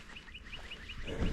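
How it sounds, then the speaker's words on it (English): Repeated short bird chirps ring out at a steady rhythm over faint outdoor background noise, followed by a low rustle near the end. "still hear a ton of birds"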